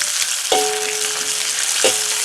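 Whole spices including star anise, Sichuan peppercorns, fennel seeds, cinnamon bark and bay leaves stir-fried in hot oil in a wok for lamb spine hotpot, a steady loud sizzle with two sharp clanks of a spatula against the pan.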